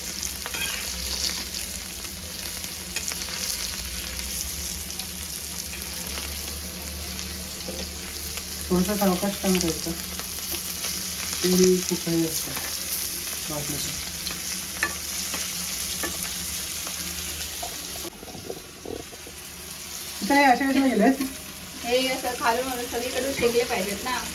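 Fish frying in a pan for a Malvani fish fry, a steady close sizzle broken by occasional stirring and scraping, with brief voices speaking over it.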